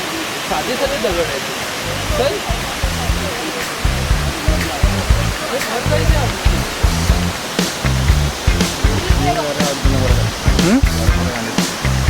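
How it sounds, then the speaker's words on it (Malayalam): A steady rushing roar of falling water at Iruppu Falls fills the whole stretch, with voices talking loudly over it. "ഇതാ ഇവിടുന്ന് വെള്ളച്ചാട്ടം ചെറുതായിട്ട് കാണുന്നുണ്ട്"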